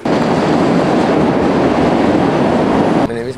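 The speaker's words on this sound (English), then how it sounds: "the next Red Line train to Ashland is now approaching." Boston Red Line subway train pulling into a station, a loud, close, continuous rumble and roar of wheels and carriages that cuts off abruptly near the end.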